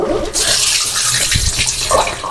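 Water gushes and splashes as it drains away from deep-fried eggplant and potatoes, a short rushing pour with gurgling bursts.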